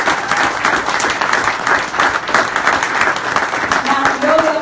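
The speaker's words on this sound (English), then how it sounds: "Let's give them some incredible applause." Loud, sustained applause from a crowd at a charity chef fundraiser dinner, dense clapping from many hands continuing steadily throughout, with faint voices mixed in near the end.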